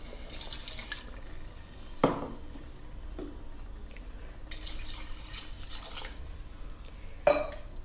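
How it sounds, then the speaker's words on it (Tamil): Water is poured into mutton curry in a pressure cooker, a soft trickling splash with a couple of sharp clinks of a vessel against the pot, close and quiet. "இப்போ குழம்புக்கு தேவையான தண்ணி சேர்த்துப்போம்."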